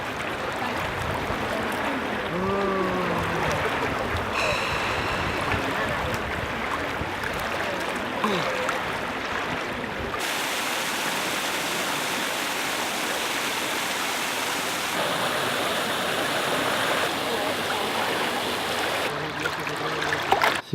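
River flowing through the middle of Bern, a steady broad rushing of water heard close and continuous, with a brief faint voice early on and a sharp handling knock at the very end.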